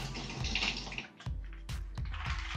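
Water pours during a water-aerator flow test, a close gushing stream that briefly cuts off and restarts in several splashing spurts, without talk.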